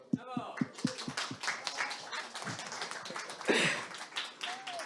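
Applause from a demo-day audience: a burst of sharp, irregular claps near the start, followed by scattered clapping and crowd noise with voices mixed in.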